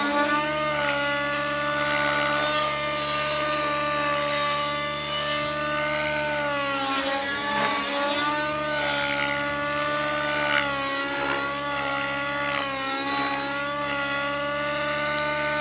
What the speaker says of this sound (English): the heli will float down nice and easy